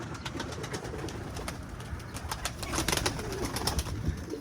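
Pigeons in an office coop coo and stir, their soft, repeated calls close by over a busy background of rustling and wing noise.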